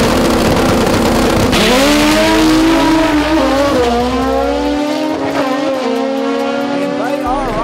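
All-motor drag race cars roar loudly down the strip side by side, engines rising in pitch through the gears with a sustained, close, full-throttle drone that fades slightly near the end, with a commentator talking over it.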